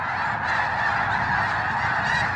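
A dense chorus of snow geese honking continuously, many birds calling at once in a steady, loud, overlapping din.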